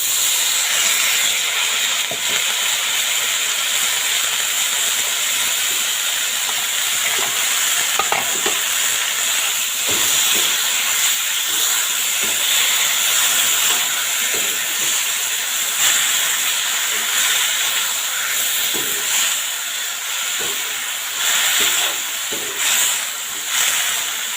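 Asiatic pennywort (manimuni) hits a hot pan with turmeric, giving a steady, loud sizzle and hiss with occasional stirring scrapes that runs on without pause.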